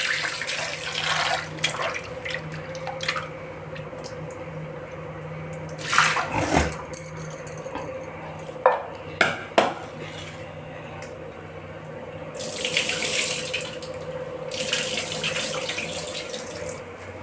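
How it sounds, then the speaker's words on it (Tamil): Water from a tap is poured over mutton pieces to rinse them in a kitchen sink, giving intermittent splashing and trickling with brief louder gushes and pauses. "நல்ல தண்ணி ஊற்றிக்கிறோம்."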